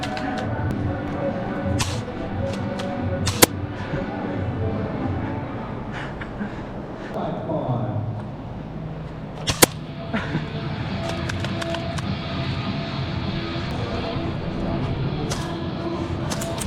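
An airsoft shotgun with an M120 spring, shooting about 310 FPS, fires during close-quarters indoor gameplay; a few sharp single cracks stand out over a busy background of shuffling and movement, with faint voices.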